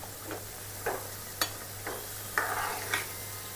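Chicken samosas fry in hot oil in a home kitchen, a soft steady sizzle broken by about six short scraping stirs from a utensil in the pan, with a low constant hum underneath and no voices.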